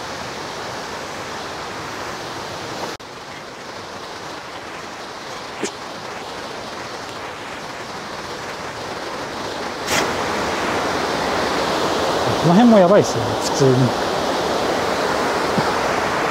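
The Ōtaki waterfall in Nagano's Yokoya gorge roars as a steady broadband rush, with someone speaking briefly over it and faint footsteps and handling noises close by.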